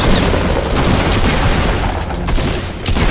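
Fortnite Battle Royale gunfire rattles in a dense, loud burst of booming shots that continues almost without pause, with a short dip before the firing resumes.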